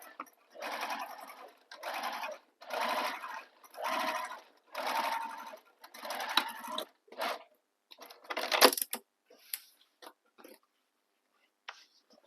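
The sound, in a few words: sewing machine stitching through bag layers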